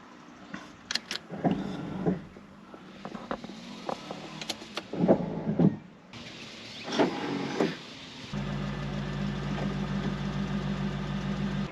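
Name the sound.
C5 Corvette pop-up headlights motor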